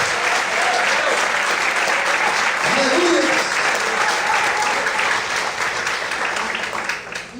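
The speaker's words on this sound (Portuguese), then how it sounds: "Se você crê, aplauda e exalte o Senhor essa noite." Loud, sustained applause from a church congregation during an evening service. Dense clapping fills the space while voices call out over it, and the sound eases slightly toward the end.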